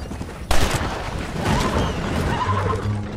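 In the western video game Red Dead Redemption, a horse neighs loudly after a sudden burst of noise, a whinny heard over busy gunfire-like clatter and hoofbeats, with no talk over it.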